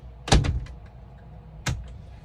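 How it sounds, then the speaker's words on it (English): The door of a Phoenix Cruiser 2100 4WD camper van is shut from inside the tight cabin: a loud close thud with a quick rattle, then a second, lighter latch knock about a second later, with no voices. "You shut the door."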